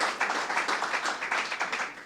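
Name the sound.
audience applause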